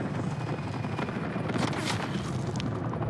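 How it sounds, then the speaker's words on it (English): An attack helicopter in a video game, a dense, steady rotor roar with rumbling booms and gunfire-like bursts mixed in, loud and continuous throughout with no talk. "Bro, who has attack chopper"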